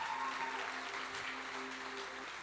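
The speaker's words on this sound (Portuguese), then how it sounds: "Vou dar um aplauso ao Senhor pela vida dela." A church congregation claps together in a warm, steady burst of applause that fills the room at even strength throughout.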